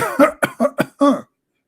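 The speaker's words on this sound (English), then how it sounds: "Okay, I will cough more." Five quick coughs in a row, loud and close, the last one slightly longer, then silence.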